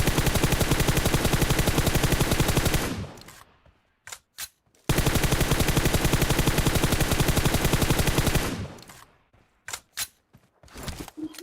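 Gunfire in a PUBG Mobile sniper fight between AWM rifles: two long sustained bursts of rapid automatic fire, each cut off abruptly, with a few sharp isolated shots in between and after.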